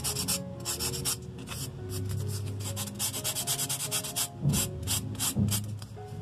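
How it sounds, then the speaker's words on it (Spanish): Sandpaper rubbing a decorated egg to erase a seam line, rapid back-and-forth scratchy strokes in quick bursts, close and steady, with faint background music tones. "Entonces lo vamos a borrar con la lija."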